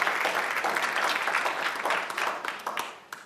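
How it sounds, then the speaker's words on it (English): A warm round of audience applause at a conference, with dense, even clapping that gradually thins and fades toward the end. "So if we could give them a warm round of applause for my musical accompaniment."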